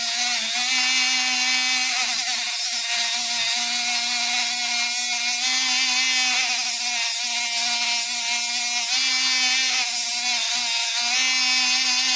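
A Dremel rotary tool on a gooseneck grinds down a wear ridge on an aluminum pressure plate, a loud, close, continuous high-pitched whine with a steady buzzing drone and small wavers in tone.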